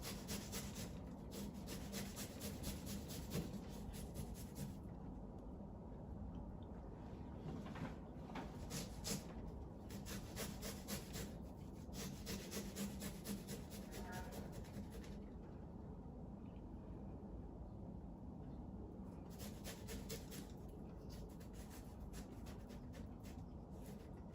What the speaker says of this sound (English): Okay, and so here we have our grated garlic.